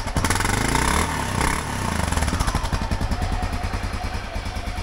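Motorcycle engine, a BMW GS310 or Honda XR650L, runs loud and close, a revving burst settling into a steady rhythmic idle with a pulsing exhaust beat.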